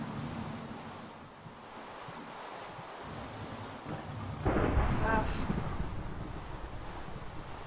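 Rolling thunder in Minecraft swells from a low rumble into a louder crash midway, set against steady wind-like ambience.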